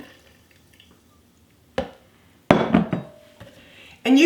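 Turkey broth is poured into a fat separator in a kitchen: a few sharp clinks of the container, then a short splashing pour with a brief knock, and another clatter at the end.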